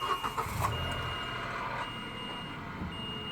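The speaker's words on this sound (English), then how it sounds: "clutch in, and we'll hit the button to start it up" A 2019 car with a manual clutch starts up by push button, with short electronic chimes and clicks before a steady engine idle settles in close by.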